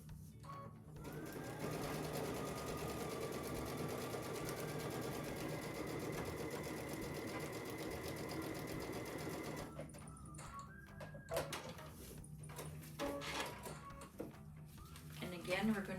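A sewing machine stitches quilt panel seams in one long steady whir, then gives way to shorter stop-start bursts of stitching. The sound is fairly quiet and close.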